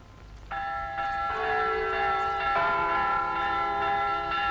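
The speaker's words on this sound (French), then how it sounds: "Les cloches de Saint-Benoît carillonnent gaiement les premières heures du matin" Church bells of Saint-Benoît ringing in the early morning, sustained overlapping metallic tones that swell and layer into a full, steady peal heard at a moderate distance.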